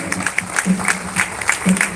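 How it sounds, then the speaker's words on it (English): Schoolchildren at a council investiture ceremony clap for an accomplished cadet, a muffled, moderately loud patter of many hands with a faint tonal hum beneath it. "A big round of applause for him, children"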